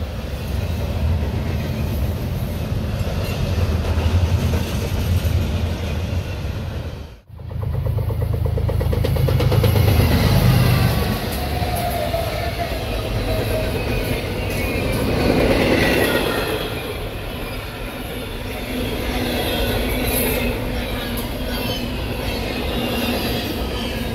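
An intermodal freight train rolls past the Berea Depot, loud and close, its cars rumbling and clattering over the rails with wheel squeal for the whole stretch and only a brief dip in the noise.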